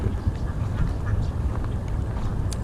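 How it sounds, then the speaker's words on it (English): A flock of female khaki Campbell ducks on a farmstead quacks in a busy, overlapping chatter against steady outdoor background noise. "So all of our khaki Campbells are down here now, all the khaki Campbell girls."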